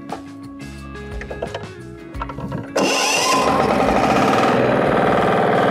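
Mini tractor FTI2010DE III fitted with a rotary anti-wind blade starts up: a few seconds of low chugging idle, then the engine abruptly revs to a loud, steady close roar that holds to the end.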